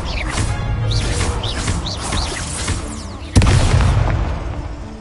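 A Confringo blasting-curse explosion in the Hogwarts Legacy video game: whooshing, warbling magic tones build before a sudden heavy boom lands near the end, followed by a loud rumbling tail.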